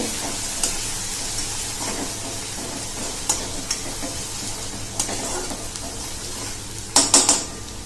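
Garlic and green chili paste sautés in a pan for a okra (bhendi) dish, a soft steady sizzle broken by occasional scrapes and clinks of a spoon stirring against the metal, louder near the end.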